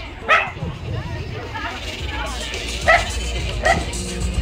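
A dog gives three short, sharp yips spaced a second or more apart, close by, over a low steady background with faint chatter at a dog competition in Riga.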